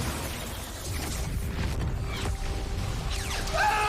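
A Xenoblade Chronicles 3 explosion in the game, a dense rumbling roar with bursts and crackling debris running for several seconds, loud and continuous.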